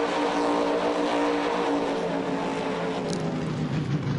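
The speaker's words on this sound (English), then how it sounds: "It's a racing truck, but it's also a monster jam truck." Racing monster truck engine in Farming Simulator 19, a steady loud droning roar that holds throughout with no talk over it.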